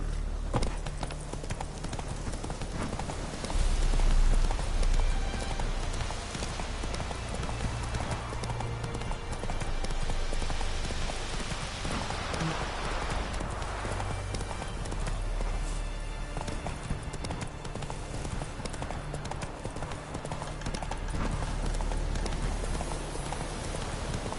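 In The Witcher 3, the horse Roach gallops at a steady, rapid clip-clop across the whole stretch, loud and close, over a dense ambient backdrop resembling rain.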